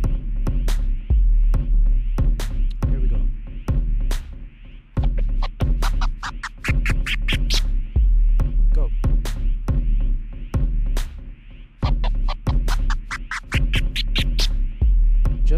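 DJ turntable chirp scratches over a steady beat, repeated sharp record sweeps running low to high and high to low, loud and continuous.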